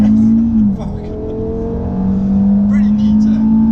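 A car launching at full throttle with traction control off, a loud engine roar that dips briefly and then climbs steadily as it accelerates, with a voice talking over it.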